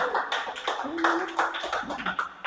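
An audience at a church gathering breaks into clapping, a few sharp irregular bursts of hand claps close by, with a voice speaking over them.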